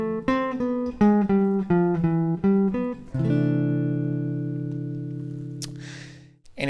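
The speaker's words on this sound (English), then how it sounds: "So with the flat 9, it sounds like this." A jazz guitar ii-V-I line with a flat 9, a quick run of clean picked single notes that resolves to a ringing, sustained chord fading out, played close with no talking.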